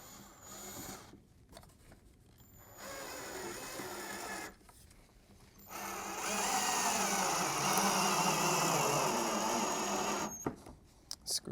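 A power drill drives 2.5-inch screws through an L bracket into a wooden farmhouse table, whirring in two bursts separated by short pauses, the second one longer and louder, heard up close.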